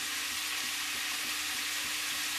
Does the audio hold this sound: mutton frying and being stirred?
yes